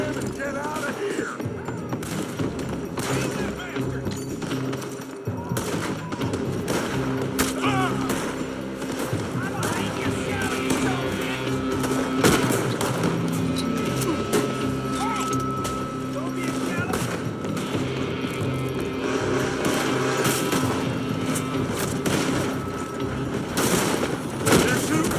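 Rapid gunfire in a Red Dead Redemption 2 shootout, with shots crackling steadily and loudly over a dense game soundscape for the whole stretch, mixed with shouted voices.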